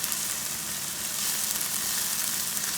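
Chicken and spinach cook in a skillet with a steady, broad sizzle and fry hiss that holds an even level throughout, with a faint low rumble underneath and no voices.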